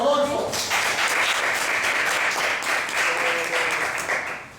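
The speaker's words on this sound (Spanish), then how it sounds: "Un aplauso para Rodolfo." A room full of people applauds for Rodolfo at a talk or class session, steady clapping filling the space with a few voices and cheers mixed in.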